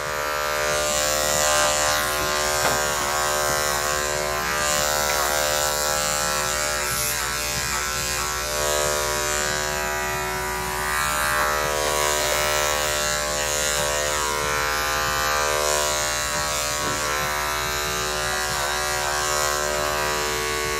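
Electric clippers run steadily on a dog, trimming off most of its hair before a blow dry; a continuous close, loud motor buzz holds for the whole stretch with no talking.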